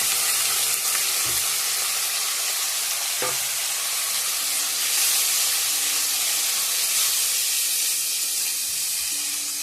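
Egg and boiled pasta frying together in a pan, a steady loud sizzle and hiss throughout with occasional scraping and stirring knocks from a utensil.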